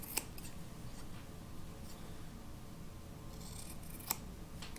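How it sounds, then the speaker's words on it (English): Scissors trimming fabric for a bowl cozy, two sharp quiet snips a few seconds apart over faint room hiss, close and isolated. "And we'll just trim it again."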